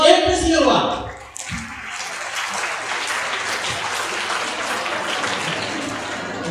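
An audience at an English Olympiad speech event bursts into sustained, dense applause that fills the room just after a voice finishes speaking.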